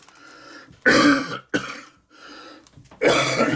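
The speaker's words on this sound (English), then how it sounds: "I got a little bit of a cough" Several bursts of coughing and throat clearing, loud and close, separated by short pauses, with no talking.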